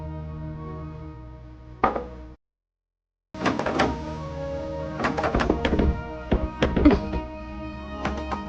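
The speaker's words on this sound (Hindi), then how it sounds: "ये नितिन ने दरवाजा बाहर से बंद किया है क्या?" A door locked from the outside is tried at home, giving a series of hollow thunks and knocks with rattling of the handle, close and moderately loud, after a brief silence, with no talk over it.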